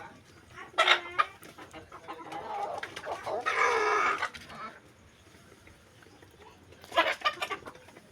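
Chickens on a farm, guarded by a dog, cluck in several loud bursts near the start, middle and end, with a longer harmonic call midway and quieter farmyard murmur between.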